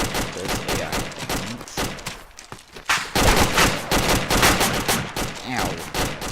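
Rapid gunfire bursts crackle through a firefight in the video game DAC, loud and dense with brief gaps between volleys, and no talking over it.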